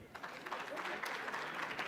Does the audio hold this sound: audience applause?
yes